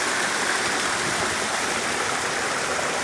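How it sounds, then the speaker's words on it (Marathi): Spring water rises in a hillside in the Madhe Ghat mountains and runs in a steady, rushing, babbling stream, close and continuous with no break, with no voices. "तसंच इथे एक झरा उगम पावलेला आहे डोंगरामध्ये."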